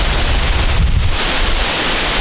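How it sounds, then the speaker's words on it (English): Steady, loud wind of about 15 mph buffeting the microphone outdoors while hunting, a continuous broadband roar with heavier low rumbling gusts and no voices. "It's windy"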